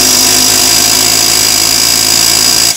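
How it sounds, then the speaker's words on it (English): A pneumatic air hammer drives vibration into the crankshaft of a Powerfist 420cc engine to break the flywheel free. It makes a loud, steady, unbroken buzzing rattle close to the microphone that stops abruptly at the end. "by using the pneumatic air hammer, all you're doing is putting vibration through the crankshaft"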